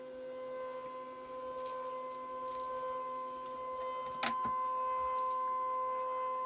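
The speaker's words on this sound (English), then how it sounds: "I'm going to do a direct scan into my machine" Brother ScanNCut cutting machine doing a direct scan, a steady mechanical hum with constant tones and faint ticking, one sharp click partway through, close and continuous with no speech.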